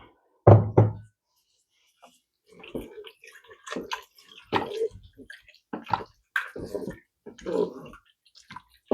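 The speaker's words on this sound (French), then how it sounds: "Je vais rajouter quand même encore un petit peu d'eau" Water is poured into a Cookeo multicooker pot while making vol-au-vent filling, heard as a splashing pour preceded by a couple of hollow knocks, with close, intermittent splashes and clunks following.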